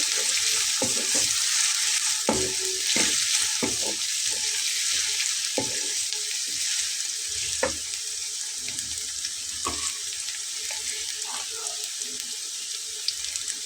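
Onions frying in oil in a pan for a lentil dish, a steady close sizzle with occasional sharp clicks and stirring knocks throughout, no voices.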